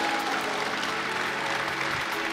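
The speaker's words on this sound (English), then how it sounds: "I think we should clap." Wedding guests applaud together during the ceremony, a dense, even wash of clapping from a gathered crowd that holds steady throughout, with no clear voices above it.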